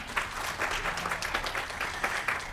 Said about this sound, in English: Please applaud him as he comes.